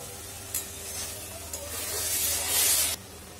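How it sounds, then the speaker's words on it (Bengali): Marinated mutton hits hot spiced oil in a pan, setting off a loud, steady sizzle that swells with bursts of spattering, close up and alone. "এরপর আমরা ম্যারিনেট করা মটনটা এর মধ্যে দিয়ে দেবো।"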